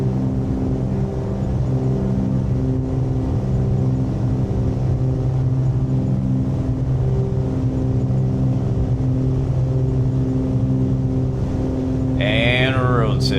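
A video-game aircraft rolling down the runway at takeoff power, a steady loud engine drone with a constant layered hum that holds throughout and swells slightly near the end.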